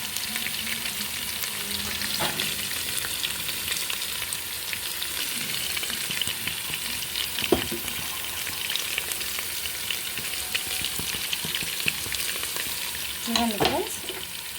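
Onions frying in oil for an Andhra-style green spicy mutton biryani give a steady, close sizzle that runs throughout, with occasional stirring scrapes and a brief voice near the end.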